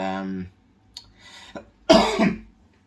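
A single harsh cough from a man with Covid bursts out after brief bits of speech and a throaty sound, close and loud.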